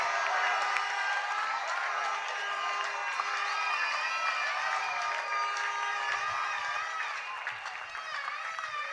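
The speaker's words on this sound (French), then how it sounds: "Applaudissez, applaudissez le Seigneur." A church congregation applauding and cheering in praise of the Lord at a sermon by Pastor Igor Kilere, a dense, steady wash of clapping and voices that carries evenly throughout, with shouts and whoops rising above it.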